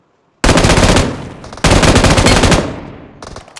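Rapid automatic gunfire from the mobile battle royale game PUBG Mobile, two long loud bursts of continuous shots separated by a brief gap, then a few trailing shots, with no talk.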